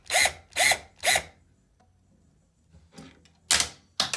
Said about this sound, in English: I have to use a drill for this one because it is in there really tight.